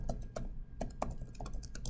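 Typing on a computer keyboard produces about a dozen quick, close key clicks in an uneven rhythm over a faint background hum.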